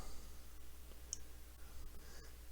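A computer mouse gives a few quiet, sparse clicks over a low background hum, with no one talking.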